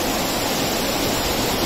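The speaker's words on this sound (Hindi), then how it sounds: "ये पानी का शोर आप देख रहे होंगे" Water rushes through canal headworks in a steady, loud broadband roar, close and continuous with no talk over it.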